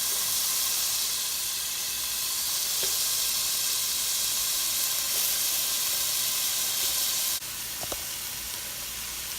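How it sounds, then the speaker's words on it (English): Sliced mushrooms and garlic in olive oil sizzle steadily in a pan, a constant loud frying hiss with a few faint clicks near the end. "And then I'm gonna go ahead and add the mushrooms that I've sliced."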